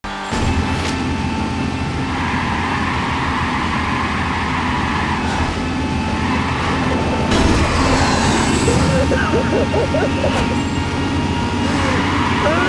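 Street racing cars in the video game Burnout Dominator roar loudly and steadily, with a dense engine drone and road noise that swells over the length of the clip, and a faint voice appears briefly.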